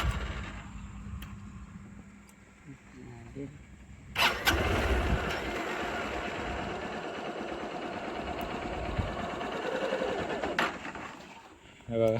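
A vehicle engine cranks and catches at about four seconds, then runs loudly and steadily for several seconds before cutting off near the end; quiet voices murmur before it starts.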